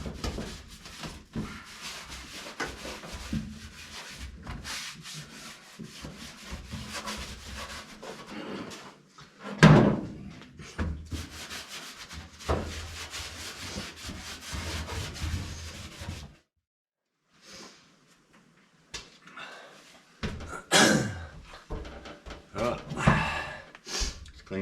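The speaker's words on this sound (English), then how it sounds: "just give it a good wipe, get all the shit off." Cloth wiping a car floor pan clean with cleaner: steady scrubbing and rubbing strokes, close and moderately loud, with a few louder bumps, a short quiet pause partway through, then more wiping.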